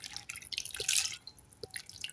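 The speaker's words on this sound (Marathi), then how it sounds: "पीठ भिजेपर्यंत त्याच्यात पाणी ओतायचं।" Water poured into flour in a pot to soak dough for puran poli, heard as a few faint drips and splashes with soft high-pitched trickling.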